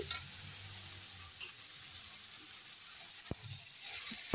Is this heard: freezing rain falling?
no